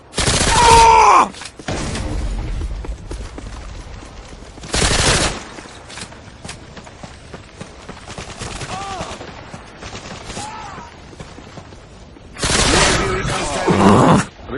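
Bursts of gunfire in Call of Duty Modern Warfare 2, loud sustained volleys at the start, middle and end, with quieter game effects and faint voices in between.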